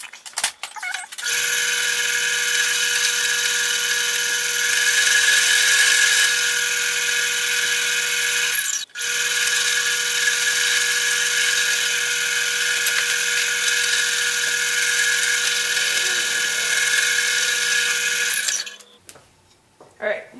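A power drill with a large bit whines at a high steady pitch as it bores into wood, pausing briefly once midway before running again and stopping near the end.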